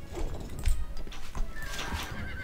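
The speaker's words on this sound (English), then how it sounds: "Our horses are ready." Horses whinny and neigh in the medieval strategy game Stronghold Crusader, several close loud calls over clip-clopping hooves within a couple of seconds.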